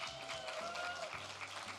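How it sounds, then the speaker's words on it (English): An audience at an awards gala for La Plaza de Cultura y Artes applauds, a short burst of dense clapping under a faint background tone. "More claps, more claps."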